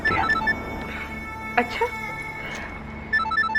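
A telephone rings in a Hindi TV serial drama scene, with short repeated electronic trills near the start and again at the end and a voice speaking in between.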